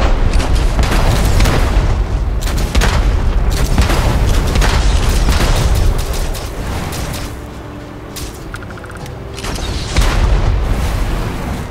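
Rocket explosions in the video game Starfield, fired at a huge creature: loud, deep booming blasts and crackling bursts follow one another closely, ease briefly, then swell again.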